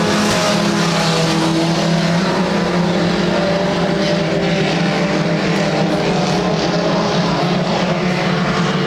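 Junior sedan race cars run down the back straight of a racing circuit. Their engines make a loud, continuous, droning roar that holds steady throughout.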